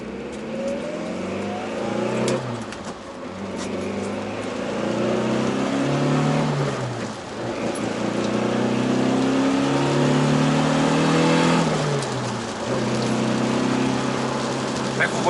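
A 2006 Mitsubishi Lancer Evolution IX with its 4G63T turbocharged four-cylinder and MIVEC revs hard, the engine note rising and falling in several loud, close sweeps with brief dips between pulls.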